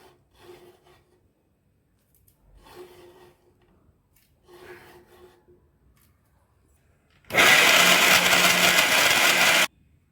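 A kitchen mixer grinder blends peanuts, ragi and jaggery. Three brief, quiet pulses are followed by a loud, continuous whirring grind lasting about two seconds, heard close up.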